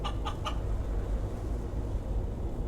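A few quick chicken clucks in Guacamelee! 2, three short bright bursts at the start over a steady low game hum, then only the background drone.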